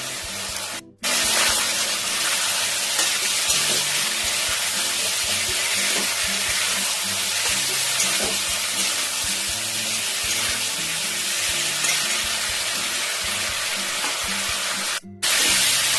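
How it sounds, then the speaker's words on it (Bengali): Turmeric spice paste with ginger frying in a pan for a light katla fish curry, a steady close hiss and sizzle running almost without break, briefly cut once near the start and again near the end. "মশলাটা খুব ভালো করে কষে নিয়েছি।"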